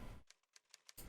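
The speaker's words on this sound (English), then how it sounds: "We just have to follow the sound of typing." Keyboard typing in the Nancy Drew game Treasure in the Royal Tower: a short run of about five crisp, separate key clicks at a moderate pace, bracketed by louder broadband noise at the start and end.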